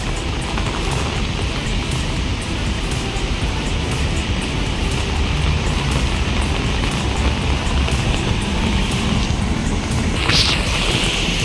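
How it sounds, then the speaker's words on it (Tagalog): Heavy rain starts falling during a strong downpour with lightning, a dense, steady roar of drops that fills the whole space, constant and loud throughout with no talk. "O, umulan na siya."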